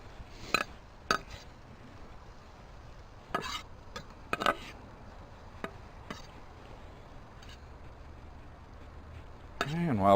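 A utensil scrapes and clinks against a pot while flour is worked into beef over a campfire, several sharp knocks scattered through a quiet outdoor background, with a louder scrape at the end.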